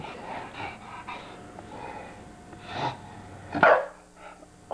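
A bulldog lying in bed pants and gives low grumbling snorts, breathy and close, with one sharper huff near the end and no talking.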